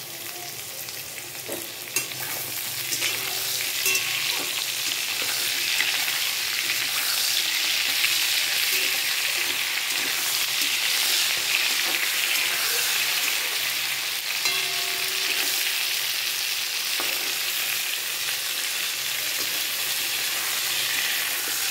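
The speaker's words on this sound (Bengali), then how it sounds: "কালো জিরা আর একটা শুকনো লঙ্কা রেখেছিলাম, সেইটা পটলের মধ্যে দিয়ে দিচ্ছি।" Pointed gourd fries with nigella seeds and a dried red chilli in hot oil, giving a continuous, close sizzle with occasional stirring scrapes throughout. No one speaks.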